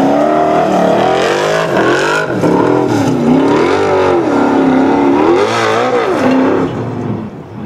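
A Formula Offroad competition car accelerates hard on a stage course, its engine revving loud and close with rising and falling pitch through gear changes, fading slightly at the end.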